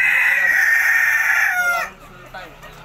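A rooster crows once, loud and close, in a long drawn-out call that breaks off sharply, followed by quiet background noise.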